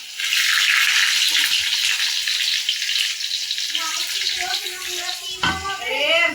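Chopped onions hit hot oil in a pan with a loud, sudden hiss that settles into a dense continuous sizzle, with a few clanks of a utensil near the end.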